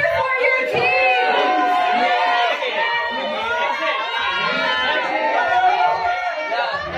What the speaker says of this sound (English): Cheer for your team.